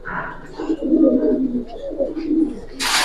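Several Palla line Giribaz pigeons coo close by in a loft, repeated low rolling coos overlapping one another, with a short burst of rustling noise at the end.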